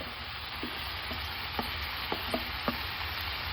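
Onion, garlic and hot chili pepper frying in a pan give a steady, close sizzle, broken by a few faint ticks and taps from stirring.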